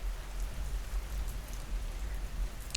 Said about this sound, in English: the rain returns to a soft,